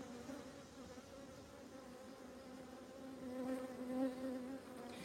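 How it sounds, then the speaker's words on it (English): Honeybees hum steadily around a beekeeper working an open hive, a continuous close buzz with harmonic drone that swells slightly louder midway, with no talking. "I'll be in front of the bees, and I don't want to be in front of the bees"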